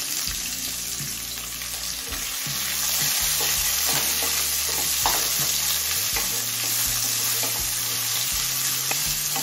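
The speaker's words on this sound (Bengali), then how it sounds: "এবার দিচ্ছি কুচিয়ে নেওয়া একটা বড় সাইজের পেঁয়াজ।" Chopped onion, a large one, fries in oil with cumin seeds and bay leaves in a pan for vegetable egg pulao; a dense, steady sizzle with scraping stirs and clinks throughout, close and loud, no speech.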